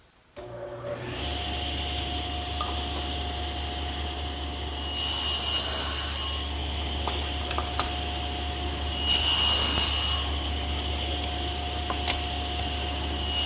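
A table saw spins up and runs steadily with a constant hum and whine while wooden rails are fed through on both ends for a chest build, with bursts of louder cutting noise around the middle and later.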